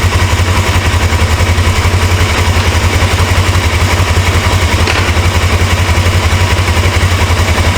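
A rare 1980s Suzuki GS 450A automatic motorcycle runs for the first time, its engine idling loud and close with a steady, rapid throbbing pulse and no talking.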